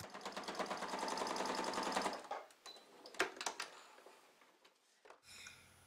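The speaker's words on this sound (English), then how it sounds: "I will sew right along the edge of the long sides of each handle" A sewing machine stitches rapidly along the long edge of a fabric handle for a wine bag, whirring steadily for about two seconds before stopping, followed by a few sharp clicks and handling knocks.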